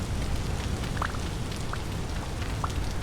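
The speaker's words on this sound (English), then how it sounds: "It is still raining." Rain falling steadily in the survival game Vintage Story, a constant dense hiss of drops on surfaces near a pond, loud and unbroken, with a few faint higher blips over it and no talking.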